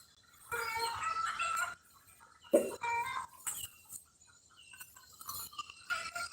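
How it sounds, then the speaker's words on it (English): Several chickens cluck and squawk close by in uneven bursts, with one sharp louder call partway through and short quiet gaps between, and no talking. "The crazy chickens, they over there laying eggs."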